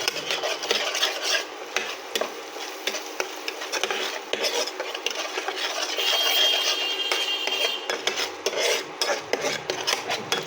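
Rohu fish being worked by hand with a spice paste of cumin powder, coriander powder and salt, giving a steady wet squelching and stirring texture, close and continuous with no talk.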